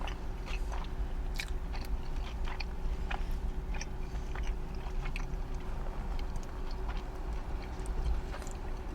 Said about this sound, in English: But apparently I've been eating some of this pizza.